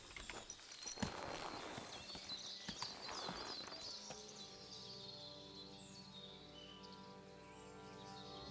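Horse hooves clip-clop in a few scattered steps early on in the video game Kingdom Come: Deliverance II, then give way to a steady low hum with faint bird calls, all fairly quiet.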